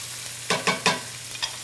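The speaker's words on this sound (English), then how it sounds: "And we're just going to sear them. Saute a little bit. I'm going to add the shrimp." Shrimp and crab meat sear and sauté in a pan for seafood Newburg, giving three quick close stir-and-sizzle bursts and a fainter fourth over a low steady hiss, with no talking.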